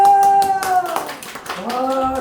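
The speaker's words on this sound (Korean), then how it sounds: "우리의 뜨거운 박수로 환영하겠습니다" Enthusiastic audience clapping at a Korean church senior school gathering, welcoming a first-time guest, with dense hand claps mixed with loud cheering voices and whoops close by.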